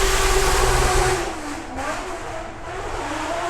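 A supercar engine revs hard as it climbs the hill climb strip at the Goodwood Festival of Speed 2021, loud and close at first, then easing slightly as it pulls away.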